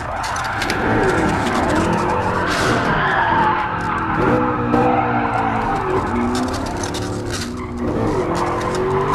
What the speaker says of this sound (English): it definitely spins the wheels easily, it's just a bit of a tricky one to skid